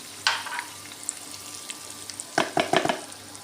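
Semolina and plain white flour toast in a pan for semolina halva, stirred by a spoon that gives a quiet ongoing scrape with a faint sizzle, and a few sharper knocks near the end.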